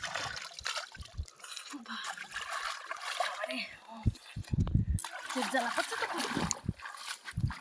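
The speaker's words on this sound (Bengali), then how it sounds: "জলে মুখ ধুই" Water splashing and trickling as someone washes their face at home in the Sundarbans, with irregular close splashes and dribbles under intermittent talking voices.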